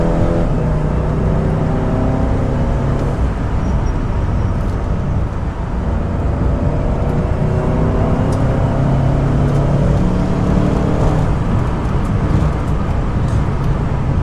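A car driven fast on the Nürburgring during tourist drives makes a loud, continuous roar of engine, wind and road noise with shifting engine tones throughout.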